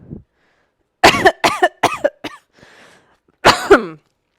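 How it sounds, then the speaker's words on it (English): A brief faint sound, then a close burst of several harsh coughs in quick succession, a pause, and one more raspy cough. "I don't usually cough actually from this."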